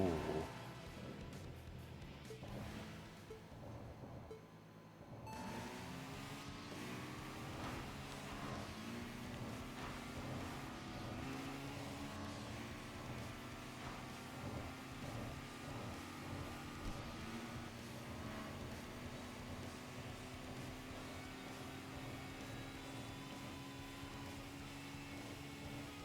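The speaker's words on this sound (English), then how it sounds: "this is a 99 WRX Type R" A 1999 WRX Type R engine in the racing game Tokyo Xtreme Racer drones steadily, then its pitch climbs slowly as it revs after a brief lull. A voice talks quietly over it.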